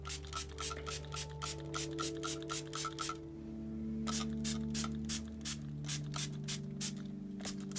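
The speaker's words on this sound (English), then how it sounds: "And I spray my Hoyas that I have in the windowsill." A spray bottle mists orchid spray onto Hoya plants on a windowsill, giving a quick series of sharp hissing squirts, a short pause, then another run, all over a low steady background hum.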